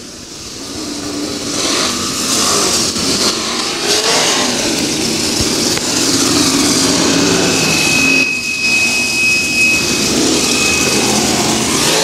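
OCRS sprint cars racing at Caney Valley Speedway, a dense, loud roar of several engines revving and droning together on the dirt oval, rising and falling as cars pass, with a thin high whine near the end.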